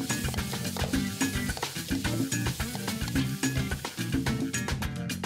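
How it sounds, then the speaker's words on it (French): Meat frying in a pan with two teaspoons of oil while being stirred, heard as busy clattering and scraping strokes over a soft sizzle, close and fairly quiet. "Puis elle met la viande à frire dans une casserole avec 2 cuillères à café d'huile en remuant."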